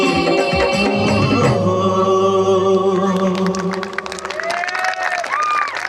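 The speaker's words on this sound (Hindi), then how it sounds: "मैं चाहूंगा कि कलाकारों के लिए जोरदार तालियां" Loud applause and cheering from an audience after a folk song and dance performance with dhol and nagada drums, rising over the last sung notes and continuing densely, with some voices and talk mixed in.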